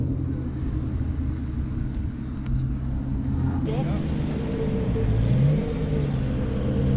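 A naturally aspirated 5.9-litre V12 car engine rumbles steadily at low revs, rising slightly in pitch toward the end, with voices talking over it.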